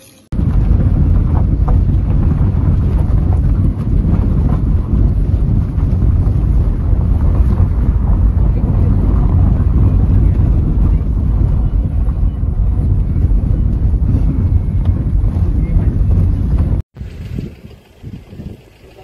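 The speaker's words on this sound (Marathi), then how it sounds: "आता आलेलो आहे आपल्या फेरी बोटला पहिल्या दिघीच्या आगरदांगा ते दिघी" Heavy wind buffets the microphone on a ferry boat crossing from Agardanda to Dighi on the Konkan coast. A loud, steady roar with engine and water rumble underneath cuts off sharply near the end, followed by quieter, uneven noise.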